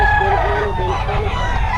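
A rooster crows loudly and close at a chicken market in Bocaue, a drawn-out call over busy low background noise.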